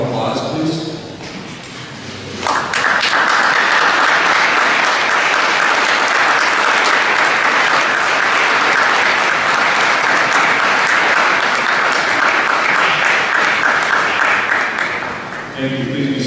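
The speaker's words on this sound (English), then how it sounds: "salute these people that helped you get to this point with a round of applause, please" Sustained applause from a large crowd at a high school graduation ceremony, loud and steady for over ten seconds before tapering off, with brief talk before it starts.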